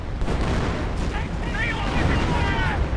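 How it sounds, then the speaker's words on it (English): A Hotchkiss artillery barrage in Company of Heroes 1 pounds continuously, with overlapping booms and blasts rolling together at steady loudness under a faint commentator's voice. "here comes the Hotchkiss barrage"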